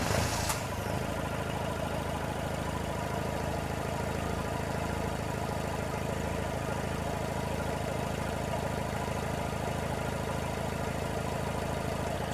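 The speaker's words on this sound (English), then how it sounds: "Keegan, would you mind starting the vehicle for me, please?" A common rail diesel vehicle engine cranks and catches in a brief burst at the start, then settles into a steady, even idle rumble close by for the rest of the clip.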